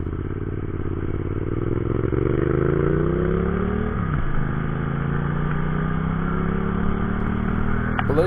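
A 2021 Piaggio Medley 150 Sport scooter engine pulls hard while riding, its drone rising through the revs, dipping briefly at a shift around four seconds, then climbing again, steady and close with wind noise.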